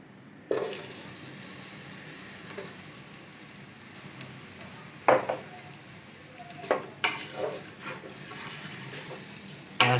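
Onions fry in a tablespoon of oil for Punjabi-style lauki sabzi, a soft continuous sizzle punctuated by occasional sharp clinks and scrapes of stirring in the pan.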